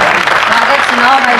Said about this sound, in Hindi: मैं तालियां बजा करके मुझे आशीर्वाद दे दीजिए।